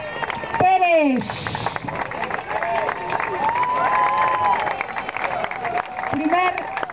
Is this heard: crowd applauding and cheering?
yes